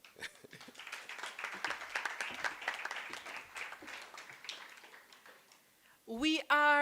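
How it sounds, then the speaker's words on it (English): Audience at a university college scholarship awards ceremony breaking into a round of applause, many hands clapping steadily for several seconds before it fades, then a voice speaking over a brief loud burst at the end. "a round of applause again"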